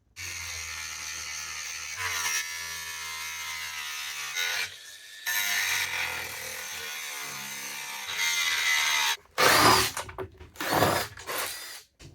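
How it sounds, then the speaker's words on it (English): A power tool grinding and cutting a metal seat mount on an ice fishing sled, loud whining bursts that start and stop several times, then harsher, choppier cutting near the end, close up with no voices. "I'm going to grind this off, recenter this, and then I'm going to just real quickly cut this off"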